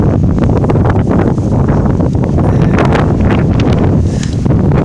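Strong gusts of a Seattle windstorm buffet a microphone on a waterfront bike ride, a loud, continuous roaring rumble that swells and surges without a break, with no talking.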